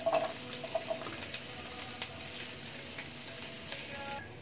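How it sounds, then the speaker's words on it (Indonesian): Garlic and onion sautéing in annatto oil: a steady, soft sizzle with occasional spatters and stirring clicks, close and fairly quiet, no talking. "Gisa natin itong bawang at sibuyas."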